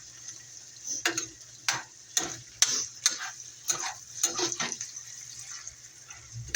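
A food mixture for conchitas stirred in a pan: a series of irregular clinking taps and wet scraping strokes, close and moderately loud, with no talking.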